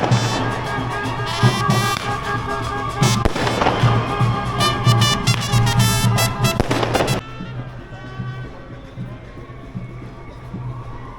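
Dense rapid crackling of firecrackers set off in the street at a wedding, rattling off for several seconds, loud and close, then stopping abruptly and leaving quieter outdoor ambience with faint voices.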